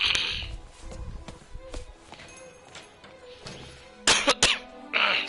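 A person coughs and clears their throat from phlegm in a few sharp, close bursts, with quieter rustling sounds between them.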